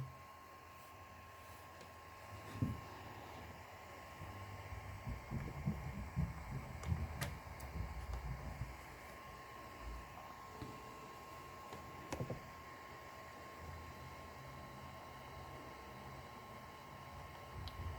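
A notebook cooling pad's fan runs steadily, giving a quiet, even hum with a faint constant tone and a few soft thumps early on, with no voices.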